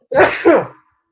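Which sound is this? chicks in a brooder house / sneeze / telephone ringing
sneeze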